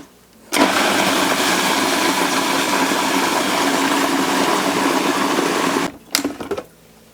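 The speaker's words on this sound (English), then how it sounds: "We're just gonna work in small batches in the food processor and blend this all together." A food processor blends garden vegetables in a small batch, a loud steady motor whir running for about five seconds before it cuts off, followed by a couple of brief clatters.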